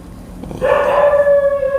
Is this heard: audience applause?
no